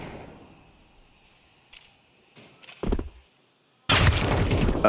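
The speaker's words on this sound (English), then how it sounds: "that was a wallbang headshot" Counter-Strike gunfire during a wallbang headshot in a pro match, a few sharp shots scattered through quiet, ending in a loud sustained burst of noisy game sound.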